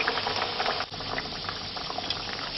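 Thekua dough, a Bihari sweet, frying in hot oil: a steady, close sizzle and bubbling hiss with small pops throughout.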